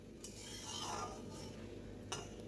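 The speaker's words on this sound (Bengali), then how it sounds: "জিরে দিয়ে দিলাম, দিয়ে এবারে ভালো করে নাড়িয়ে নিচ্ছি" Cumin seeds tempering in hot oil in a pan on low heat, a soft continuous sizzle with a spoon scraping and clinking against the metal a couple of times, faint and close.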